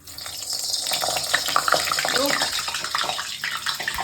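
Frozen potato smileys hit hot frying oil and set off a loud, continuous sizzle with sharp crackles and pops of splattering, spitting at close range.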